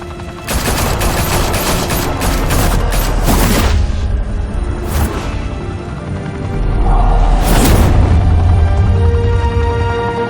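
Bursts of automatic gunfire and heavy booms in the video game Batman: The Telltale Series form a loud, dense volley that swells again toward the end.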